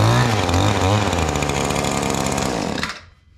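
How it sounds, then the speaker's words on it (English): An Echo Speed Feed 450 string trimmer's two-stroke engine, run on ethanol-free fuel, fires up without choke and screams at high revs close by, then cuts off abruptly near the end. "I'm not going to put the choke on at all."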